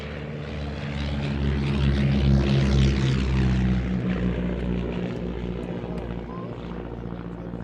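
A Miles Magister, an all-wood propeller monoplane trainer, flies past at an air show, its loud steady engine drone swelling and holding close overhead, with a commentator talking over it.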